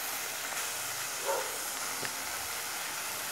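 A pressure cooker whistle vents steam while beetroot curry cooks, giving a faint, steady hiss with a couple of brief sputters, with no talking.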